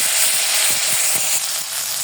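Hot oil sizzles in a wok as salt goes in, ready for taki fish: a steady, bright hiss with a few soft low pops, close and fairly loud.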